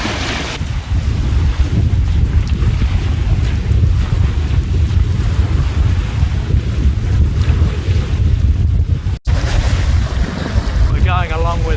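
Steady, loud wind roars across the microphone aboard a sailboat running under a fully reefed main and full jib in about 15 knots of breeze, with water rushing along the hull throughout and a brief dropout near the end.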